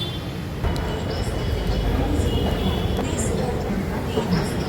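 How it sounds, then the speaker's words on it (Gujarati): Steady low rumble of a train rolling in, with rattling carriage noise and faint high squeals over a busy background. "ટ્રેન આવી ગઈ છે આપણી"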